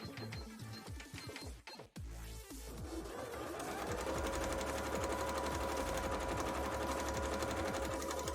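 A sewing machine runs a zigzag stitch on fabric for a bra. After a few hesitant starts it settles into a loud, steady, rapid needle clatter that continues to the end.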